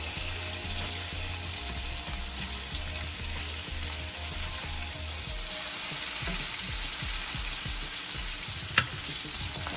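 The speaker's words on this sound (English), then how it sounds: "So I am going to flip my meat over first." Oxtail meat sizzling and frying in a pan after being flipped, a steady close crackle with stirring scrapes, occasional taps and one sharp clatter near the end, no voices.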